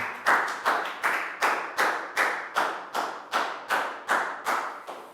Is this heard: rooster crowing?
no